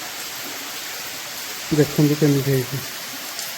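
Kuntroo Cave waterfall in Deogarh, Odisha, running with low flow, heard as a steady broadband rush throughout while someone speaks briefly over it midway.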